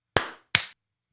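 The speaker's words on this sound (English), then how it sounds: "So clap." Two sharp, loud claps a moment apart, each a single crisp burst with a quick decay, from people clapping in unison after a countdown before recording a podcast; silence follows.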